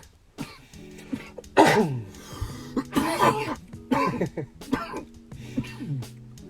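Several sharp coughs and throat-clearing bursts close to the mic, some with voiced tails, scattered irregularly across the stretch.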